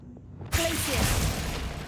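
A Glacius ice spell cast in Hogwarts Legacy bursts in abruptly out of near silence, a bright crackling whoosh with a dense hiss that lingers at steady loudness.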